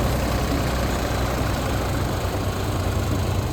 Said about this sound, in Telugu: ఇప్పుడు వెనకాల ట్రాక్టర్ అయితే రన్ అవుతానందనమాట